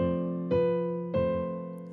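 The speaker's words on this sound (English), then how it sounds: "Here are both measures with the Appoggiatura." Piano plays two measures in which each main note is preceded by an on-beat appoggiatura, giving two clear struck attacks with sustained, ringing harmonic chords in between, close and alone without talk.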